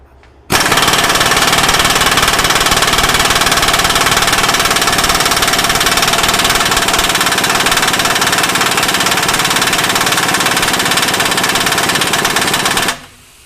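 A Myers MTS53371 air impact wrench set to 1,000 foot-pounds hammers continuously for about twelve seconds, a loud, dense rattling burst that starts abruptly and cuts off sharply, with no voices.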